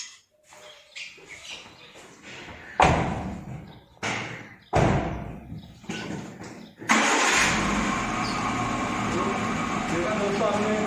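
A Maruti Eeco LPG car engine cranks in several loud bursts with brief pauses, then catches and settles into a steady idle, recorded close by.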